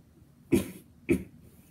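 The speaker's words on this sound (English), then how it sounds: "I just coughed." Two short, sharp coughs about half a second apart, close by, with quiet room tone between them.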